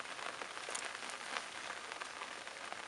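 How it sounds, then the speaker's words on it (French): Steady rain falls on a surface during a night of fishing at a gravel pit, a dense, even hiss of drops, with no talk. "De la pluie."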